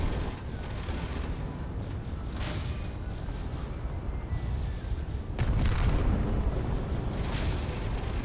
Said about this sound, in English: I see his tanks firing.